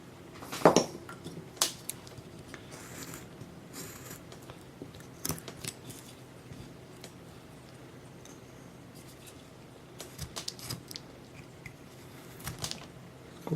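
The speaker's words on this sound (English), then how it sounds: "I do want to take the knife to it" A knife carves a small wooden villager figure with sparse, close scraping and snicking cuts scattered irregularly over a quiet background, some strokes sharper and louder than others.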